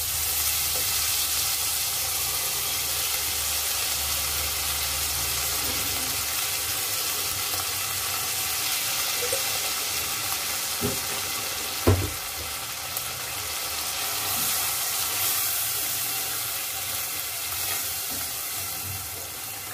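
Garlic and ginger paste frying in a pot on lowered heat for khichuri, a steady broad sizzle with occasional soft clinks and one sharp knock near the middle, continuous and close with no speech.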